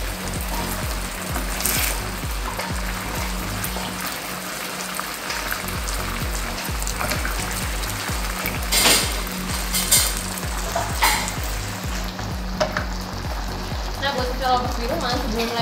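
A spoon stirs thick baby porridge with coconut milk and ground chicken in a pot, making soft scraping and bubbling sizzle sounds throughout, with someone talking over it.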